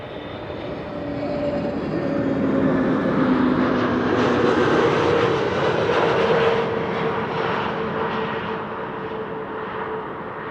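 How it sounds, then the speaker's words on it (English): A KM Malta Airbus A320neo airliner, flight 394 from Malta, arriving at Amsterdam Schiphol on a frosty day, its engines a steady, loud jet roar that swells and holds, with no talk. "arriving from Malta. It's an A320neo."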